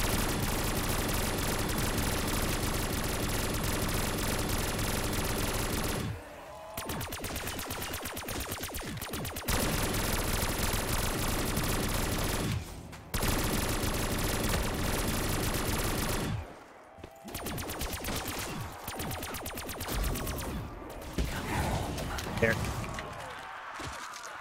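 Rapid gunfire from a Black Ops 3 Custom Zombies match as players shoot at zombies, dense bursts running almost continuously with brief pauses, loud and close, mixed with game sounds and players talking.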